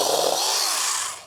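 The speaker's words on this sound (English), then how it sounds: "this saw is obviously made for lightweight work" A small power saw made for lightweight work whines steadily as it cuts through overhanging branches during light acreage maintenance, loud and close, briefly tapering at the end.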